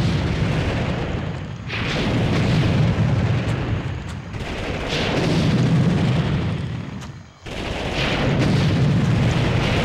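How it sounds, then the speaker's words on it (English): Tank cannon fire and explosions in the Army Men 3D video game, heard as heavy rumbling booms that roll one into another, loud and close, with brief dips between barrages. "It's time for my first tank battle."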